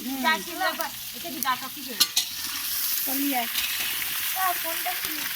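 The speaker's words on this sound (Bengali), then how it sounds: "এখন মাংসের আলু কষা পর্ব চলছে" Meat and potatoes are stir-fried as kosha in a pan, with steady sizzling and the scrape of stirring. The sizzle grows louder over time while voices talk over it.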